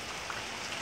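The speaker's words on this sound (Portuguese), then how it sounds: "E a chuva, tá chovendo, choveu a tarde inteira," Steady afternoon rain falls on a farm, an even close hiss of drops on surfaces with no other sounds.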